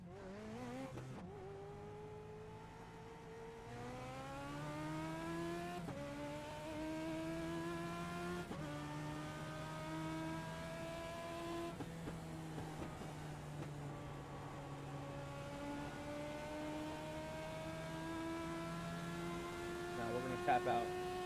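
A simulated Legend race car engine in iRacing revs hard through the gears, bouncing off the rev limiter in fourth gear with a steady, droning buzz that rises and drops repeatedly.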